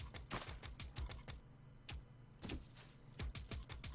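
Rapid, irregular mouse clicking during play of the PC game Clicker Heroes 2, close and fairly quiet, with dense clusters of sharp clicks over about four seconds.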